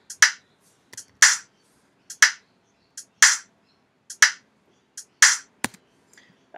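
A sparse beat programmed in GarageBand: sharp, crisp hi-hat clicks and snappy rimshot hits landing in an even, steady rhythm, with short gaps of near silence between them.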